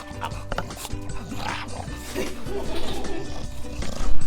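A small dog snarling and growling continuously in the background of an indoor kitchen while fig preserves are being made, a low rough rumble that builds slightly louder toward the end.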